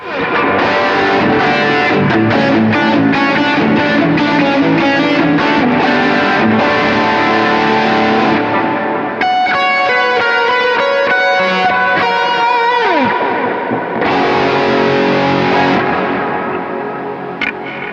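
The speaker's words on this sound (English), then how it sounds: "So that's my really big big distortion sound." Heavily distorted electric guitar playing loud chords and lead lines, thick and saturated with some chorus and echo, no voices.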